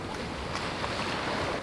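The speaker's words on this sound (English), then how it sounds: "It's like a motorboat." A motorboat out at sea off the coast of Venezuela, a steady rushing engine and water noise heard from a sailboat amid wind and waves, with no clear approach change.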